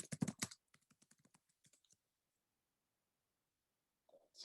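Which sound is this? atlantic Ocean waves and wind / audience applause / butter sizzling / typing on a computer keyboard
typing on a computer keyboard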